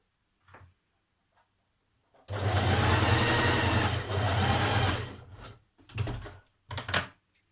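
A domestic sewing machine runs a continuous stitch along a seam for about three seconds, followed by a few short bursts of back-tacking, with quiet clicks and handling noises between.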